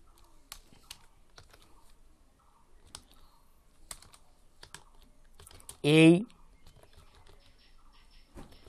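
Fingers tapping on a computer keyboard in quick, irregular clicks, close and fairly quiet, with a brief louder whirring or squeaking burst partway through.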